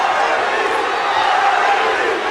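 A boxing arena crowd roars and chants the fighters' names, a dense continuous wall of massed voices held at steady loudness throughout, with no single speaker standing out.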